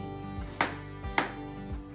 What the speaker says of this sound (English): I'm gonna go ahead and cut the mango.